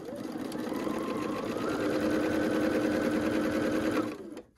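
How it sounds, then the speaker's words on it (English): A sewing machine runs continuously at a steady fast pace while stitching quilt squares together, a loud close whir with a rising hum that cuts off abruptly near the end. "I'm sewing the squares together, the 4 patch we just did"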